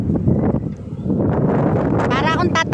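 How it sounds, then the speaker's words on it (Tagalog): Loud, blustery wind buffets the microphone with low rumbling gusts at a high lookout in Taif, while voices speak over it. "Para akong tatangayin ng hangin."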